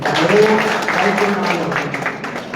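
A crowd at a mini football jersey-launch event breaks into a round of clapping, dense and close, with voices mixed in.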